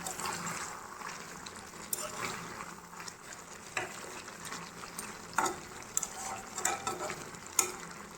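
Shukto vegetables in a pan are stirred with roasted panch phoron spice powder, giving a gentle, quiet sizzle with intermittent scraping and clattering strokes close by.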